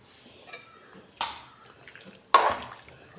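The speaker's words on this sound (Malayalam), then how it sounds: "അപ്പോൾ നമുക്ക് ഈ കുമ്പളങ്ങ അതിലിടാം." Cooked ash gourd dropped into a pot of chicken curry, a few soft wet plops and splashes spaced apart in a quiet kitchen, the last one loudest.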